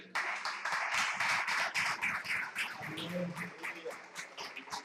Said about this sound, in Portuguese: As palmas louvam ao Senhor.